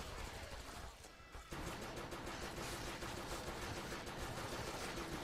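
Rapid, dense gunfire from the top-down shooter Crimsonland, a near-continuous loud barrage of shots with a brief dip before the shooting resumes at full intensity.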